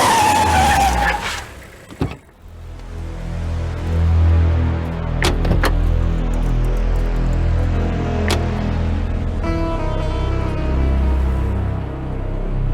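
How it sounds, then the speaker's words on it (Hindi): In a film car chase, one car overtakes another with a sustained, loud engine roar, punctuated by sharp thuds and tire skids throughout. "ड्राइवर, गाड़ी को ओवरटेक करो।"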